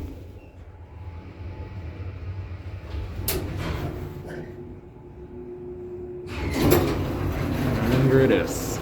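A Schindler Impulsomatic R-Series traction elevator door slides open and shut with a couple of rumbling, clattering sweeps, close by and fairly loud, with a brief sharp knock midway and a low hum between.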